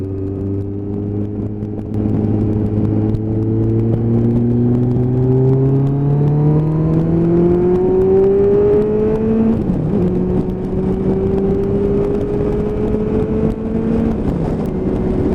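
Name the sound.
motorcycle accelerating hard in the outside lane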